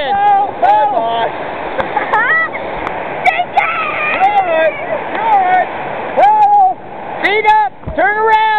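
White water rapids rush steadily around a paddled boat, a constant roaring wash with splashes, largely covered by people excitedly shouting and whooping over it.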